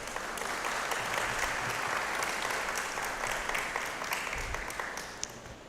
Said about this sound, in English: I want you to give yourselves a round of applause